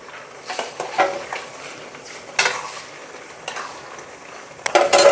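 Lentil dumplings (bora) go one by one into ash gourd shukto in a pan, making soft plops and spoon-against-pot clinks over a faint simmer, with scattered scrapes and knocks.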